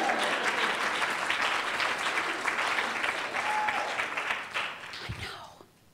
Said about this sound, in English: give me applause, people